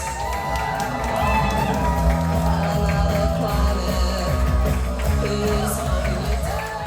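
Comedy club audience claps and cheers loudly for comedian Mark Cox taking the stage, a sustained wave of applause with whoops and shouts close by.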